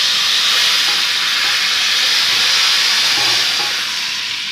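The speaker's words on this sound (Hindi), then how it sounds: "अब इसके ऊपर लगाते हैं बड़ा अपना प्यारा सा तड़का।" Hot garlic and cumin tempering is poured onto a bowl of dal, giving a loud, steady hissing sizzle that runs the whole time and eases off slightly at the end.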